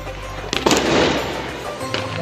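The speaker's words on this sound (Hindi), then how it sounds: "तो पटाखे छुटाऊँ" Diwali firecrackers set off outdoors, a sharp crackling burst near the start followed by a rough, sizzling spray of noise that lingers and fades, with a smaller pop toward the end, over steady background hum.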